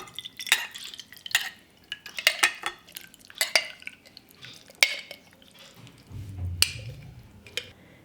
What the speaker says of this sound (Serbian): I sad ćemo sipati pasulj u teglu.